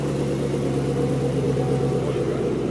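A car engine with an aftermarket exhaust runs steadily with a deep, throaty exhaust rumble, loud and close, without any noticeable revving.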